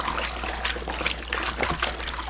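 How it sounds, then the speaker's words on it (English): Hand-washed bras are rinsed under running water to flush out the soap, a close, steady trickle and splash with a low hum underneath and no voices. "So I rinse them just this way, and then that will get the soap"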